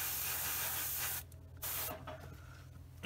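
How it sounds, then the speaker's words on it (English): An airbrush or spray can mists paint onto a part of a Tamiya 1/35 M2A2 Bradley model kit, a steady close hiss with short breaks where the spray cuts off and resumes. "spray top and bottom, so I need to spray this one early on."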